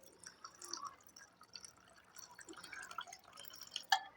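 Water trickles and drips into a cooking pot while horse gram rasam is being made, a light, fairly continuous splashing and dripping with small irregular bursts and one sharper clink near the end.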